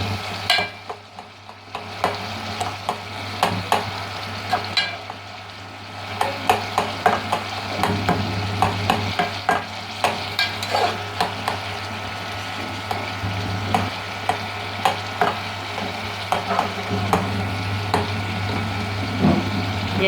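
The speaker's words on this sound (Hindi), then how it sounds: "वो अब इसकी भुनाई हो रही है टमाटर की।" Tomatoes frying and being mashed in hot ghee in a pan for charsi karahi, a steady sizzle punctuated by repeated scraping, stirring knocks of a utensil against the pan throughout.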